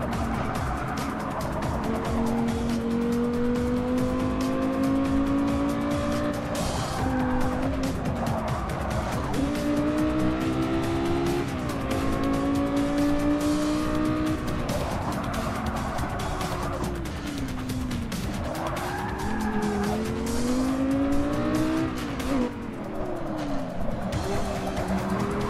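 A 2010 Lexus race car in Forza 6 Apex at Dunsfold, England, revs hard and loud through repeated rising gear pulls and drops, with occasional tire squeal between shifts.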